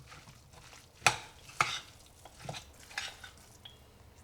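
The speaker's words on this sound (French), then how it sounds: "il n'y a plus qu'à mélanger tout ça et on va pouvoir servir la salade" Grated beetroot salad with walnuts and fresh herbs being tossed in a bowl: a couple of sharp clinks of utensil against the dish, then softer scraping and stirring taps, close and fairly quiet.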